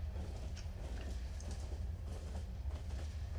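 Steady rumble of a train riding along in the video game Enderal: Forgotten Stories, a continuous deep rolling drone with faint rhythmic rail clatter, no voices over it.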